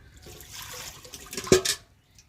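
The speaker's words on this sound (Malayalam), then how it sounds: "ഇനി നമുക്ക് വെള്ളം ഒഴിച്ച് നോക്കാം" Water poured into a cracked clay cooking pot that has been repaired, giving a short, close splash that swells and fades after a quiet start.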